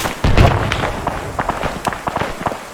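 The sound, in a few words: grenade explosion in video game Arma 3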